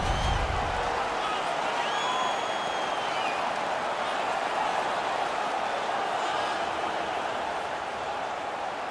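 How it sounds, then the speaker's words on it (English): An ice hockey arena crowd in NHL 19 roars after a fight, a dense and continuous wash of cheering and applause that stays loud, with a brief low thump at the start. "Their man's won the fight. The crowd is ecstatic."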